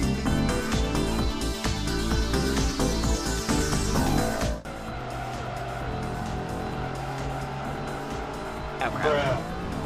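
Racing-game engine roar of a Viper GTS in DT2, a loud continuous revving drone with shifting pitch and brief tire squeal, a steady game soundtrack mixed in, and someone talking over parts of it.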